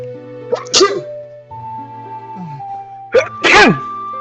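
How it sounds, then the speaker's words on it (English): Two sharp sneezes, one near 0.7 s and another near 3.5 s, sound up close over steady electronic game music from The Legend of Zelda: Ocarina of Time during the Ganon fight ending. "It was a horrible time to sneeze."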